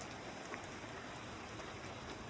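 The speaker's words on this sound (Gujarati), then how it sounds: "વરસાદ પડે છે" Outdoor rain falls steadily in a soft, even hiss, faint and distant, with no voices over it.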